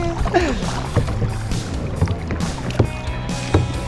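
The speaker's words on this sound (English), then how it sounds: "Little one-arm paddle." Single paddle strokes pull through the water beside a canoe or kayak, making soft rhythmic splashes and drips about once a second, close by, with light wind noise behind them.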